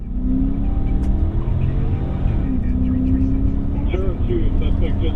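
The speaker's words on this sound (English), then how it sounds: "he started the engine and sped away" A stolen police patrol car's engine roars steadily and rises in pitch as it pulls away at speed, a loud continuous rumble with voices talking over it.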